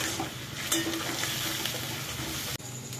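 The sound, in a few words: grated onion frying in oil in a pan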